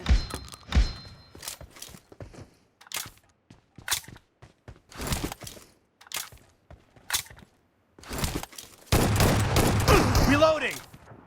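Shotgun blasts ring out in a BGMI shotgun-only room 1v1 match, a string of sharp separate shots spaced through the scene with game voice callouts between them and a denser burst of noise near the end.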